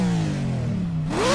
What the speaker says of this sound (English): Let's listen to this engine rev here